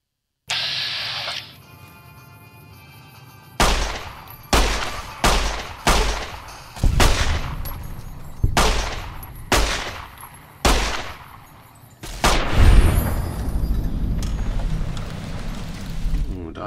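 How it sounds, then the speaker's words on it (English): A dynamite explosion in Fallout: New Vegas, heard from some distance as a run of sharp booming blasts and thumps in quick succession, then a longer rumbling roar with debris hiss, amid game sounds and no talk. "Ooh, dynamite."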